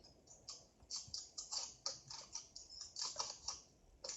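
A sticker label is peeled and torn off product packaging in a quick series of sharp, crackly rips and ticks, close and faint, with no talking.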